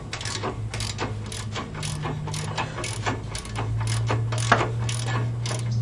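A ratchet tightens a coilover suspension bolt on a 240SX: steady rhythmic clicking strokes, close and fairly loud, over a low continuous hum, with no speech.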